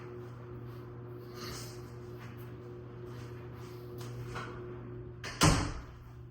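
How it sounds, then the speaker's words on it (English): Over the steady hum of a running clothes dryer, a laundry room door closes with a single sharp thud near the end, close to the listener. "Let me close my laundry room door."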